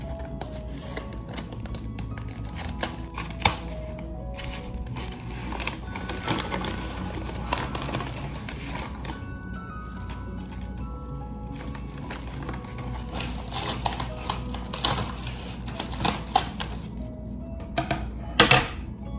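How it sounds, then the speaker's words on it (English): Crinkling and tearing of packaging as an imported variegated houseplant is unwrapped, with steady rustle punctuated by sharp crackles and clicks throughout, close and moderately loud, no talking. "So let's unwrap this and see how this plant's looking."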